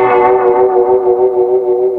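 An ADINEKO Dive Down reverb pedal set right at the verge of oscillation, giving a sustained, shimmering wash of stacked tones with echo-like swells that hold steady and loud throughout, with no voices.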